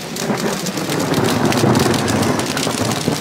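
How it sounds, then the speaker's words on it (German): Heavy rain pours steadily onto an emergency-blanket shelter, loud and close, with a low rolling thunder rumble running underneath from a storm directly overhead. "Oje, das Gewitter ist direkt über mir"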